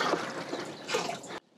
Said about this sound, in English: So we're gonna go ahead and put 1 quart of Pasture Pro in the tank now.